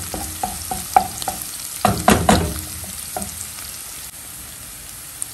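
Sardines and cabbage being sautéed in a pan: irregular clinks and scrapes of a stirring utensil over a soft sizzle, with a louder burst of clattering stirring in the middle, close and without talk.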